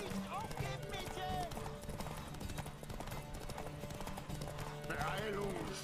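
Rhythmic hoofbeats of a galloping horse in The Witcher 3 run beneath music and voices, with a horse's whinny briefly rising near the start and again toward the end.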